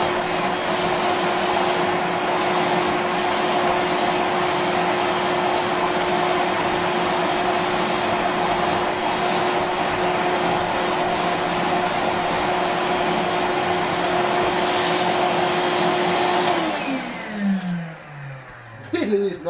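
A restored yellow Hoover Celebrity S3005 vacuum cleaner runs with a steady, loud whine and a constant high motor tone, then switches off near the end and the pitch falls away as the motor spins down.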